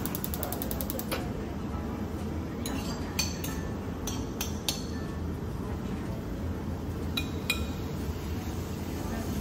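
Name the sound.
stir-frying shrimp in a pan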